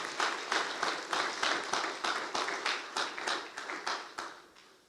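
A church congregation claps in a rhythmic, unison beat of about three claps a second, steady and moderately loud, fading slightly toward the end.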